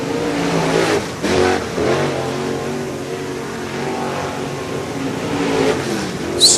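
Race cars lapping Swainsboro Raceway in Georgia, engines revving loudly and continuously as cars pass close by, with rising and falling pitch and no voices heard.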